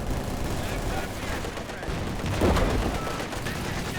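A walking Stuka rocket barrage in Company of Heroes 2, rumbling battle noise with steady gunfire and a heavier burst of impacts toward the end, all under continuous ambient din.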